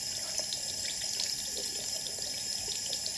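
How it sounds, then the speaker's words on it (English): Running tap water flushes a 15-stage shower filter to clear out loose carbon, a steady mid-level splash and rush of flow with no gaps and no talking. "So we're going to rinse it for about 20 seconds on each side."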